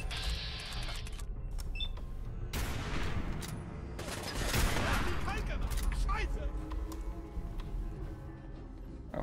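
Gunfire in the video game Fallout 4: bursts of shots and impacts amid game noise, with a louder cluster midway, while someone talks over it.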